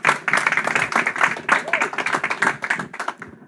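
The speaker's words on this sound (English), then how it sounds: "another round of applause for our judging panel" A room of people at a fundraiser debate claps for the judging panel in fairly loud, close, bursting waves that taper off near the end, with some voices mixed in.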